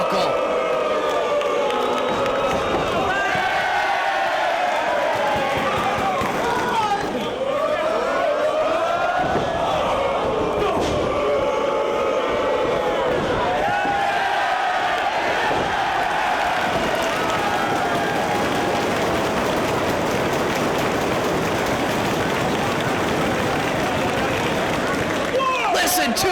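Wrestling fans at a Ring of Honor event cheering CM Punk's moves against Aries: a loud, sustained roar of crowd noise with swelling cheers and clapping, commentary over it, for the full stretch.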